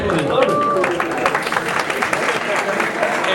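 Students applauding in a lecture hall during a general conference, a dense sustained patter of many hands clapping close by, mixed with voices talking and crowd murmur.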